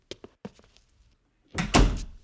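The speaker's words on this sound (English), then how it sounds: "Herman, could you close the door for a moment?" A door closing in a full-cast radio drama: a few light taps and shuffles, then a loud, heavy thudding shut near the end, close by with no voices.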